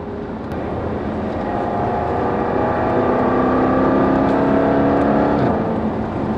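A 600PS Jaguar Project 8 on a race track, its engine a loud sustained roar with rising tones as it accelerates, heard from inside the car without talk.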